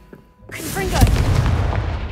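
A Confringo spell blast in Hogwarts Legacy: a loud booming explosion erupts after a brief quiet, followed by a rumbling crackling tail that holds for over a second, with a short shouted voice just before.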